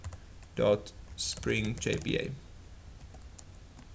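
Keys clatter on a computer keyboard while code is typed into a programming editor. Short bursts of clicks mix with someone speaking softly.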